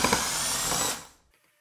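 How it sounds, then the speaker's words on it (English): A power screwdriver or drill runs steadily up close for about a second while backing out the screws that hold a three-way smart dimmer switch to a junction box, then winds down to silence. "let's go ahead and remove the two screws holding the switch onto the junction box."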